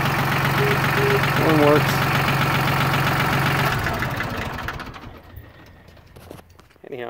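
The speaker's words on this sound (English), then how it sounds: "Mitsubishi MT14D four-wheel drive diesel tractor" A Mitsubishi MT14D four-wheel-drive compact tractor's small diesel engine idles with a steady knocking chug, close up, then fades away as someone speaks briefly.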